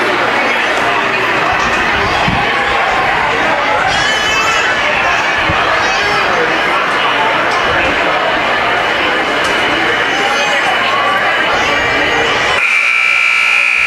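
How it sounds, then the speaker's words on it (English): A basketball game horn blares at the end of the quarter break in a school gym, a steady loud tone cutting in after a long stretch of crowd noise and chatter from the stands. "There's the first horn."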